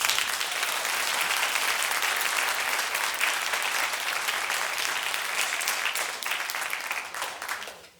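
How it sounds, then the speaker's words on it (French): A concert audience at a wind ensemble's jazz show gives a loud, sustained round of applause for a flautist standing up, dense clapping throughout before tapering off at the end. "À la flûte, je demande à Jeanne de se lever sous un tonnerre d'applaudissements."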